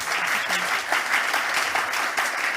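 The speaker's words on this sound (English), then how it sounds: "Applause for Jana." An audience at a female founders stage event applauds a speaker, a loud burst of many hands clapping that stays steady and continuous throughout.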